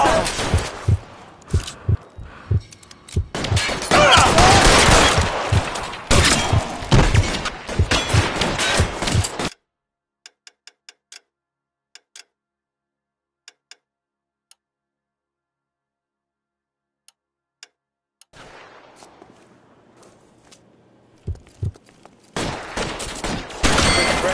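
Gunfire in L.A. Noire, with rapid bursts of shots crackling for about ten seconds, then a long near-silent gap with a few isolated clicks, before sparse shots and a voice return at the end.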